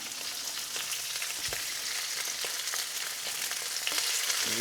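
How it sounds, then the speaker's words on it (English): Meat browning in a hot pan for homemade bunny chow, a steady close sizzle and crackle with scattered pops and an occasional scrape, carrying on evenly with no talking. "what we need to do is just brown our meat. In a pan."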